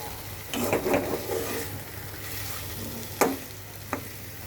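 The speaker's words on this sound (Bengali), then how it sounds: "আমার মাংসটা কিন্তু খুব সুন্দর মতন কষানো হয়ে গেছে মিনিমাম আমি আট থেকে নয় মিনিটের মতন কষিয়েছি" Country chicken frying in a pan with ground nut paste, a steady close sizzle under scraping stirs from a spatula, with a couple of sharp clinks against the pan.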